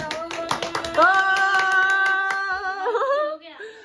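Hand claps, sharp and fairly close, tap out an irregular rhythm at a casual home gathering, then a voice holds a sustained sung tone over them and fades toward the end.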